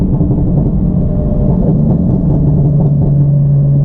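BMW F80 M3 / F82 M4 with an MHD burble tune and catless downpipe, low rumbling exhaust burble from light throttle blips while rolling, loud and close, with a steady droning engine tone throughout.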